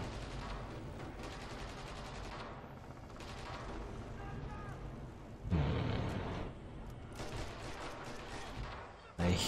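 Gunfire in the World War II shooter Red Orchestra 2 within a hangar skirmish, a dense mechanical clatter under a steady game bed with a loud burst of shots near the middle and another sharp report at the end.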